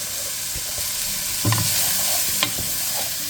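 About two chopped onions fry with bacon for a smoked chicken and vegetable soup, giving a constant close sizzle with a few stirring scrapes and no talking.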